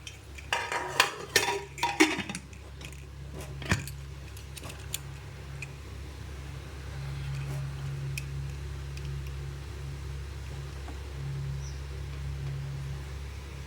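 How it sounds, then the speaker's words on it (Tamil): A lid being closed on a pressure cooker in a home kitchen: a cluster of sharp metallic clinks and clatters up close at the start, then a few faint taps over a low steady background hum. "இப்போ இந்த குக்கரை மூடி வைக்க போகிறேன்."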